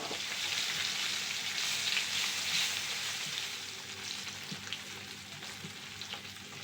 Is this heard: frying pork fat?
yes